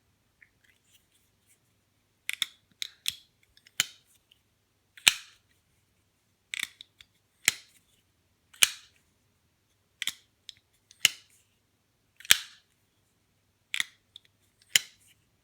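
An Enrique Pena Dirty Diesel pocket knife locks open and snaps shut again and again, giving about a dozen sharp, close metallic clicks in irregular pairs and clusters against near silence.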